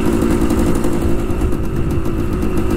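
A Suzuki TS185 motorcycle engine runs continuously close by, giving a loud, steady low throb with a rough, pulsing texture.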